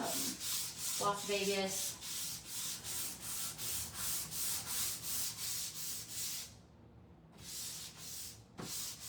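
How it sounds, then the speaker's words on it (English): Hand-sanding a vintage reindeer decoration, with rhythmic back-and-forth rasping strokes, close and loud, pausing briefly near the end while a person speaks a few words over it. "we're just giving this a good sand"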